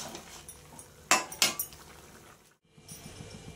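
A metal kadai is lifted and set back down on a kitchen stove, two sharp clanking knocks in quick succession, then a softer clatter, close and otherwise quiet.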